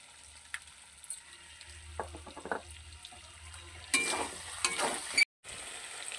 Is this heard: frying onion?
yes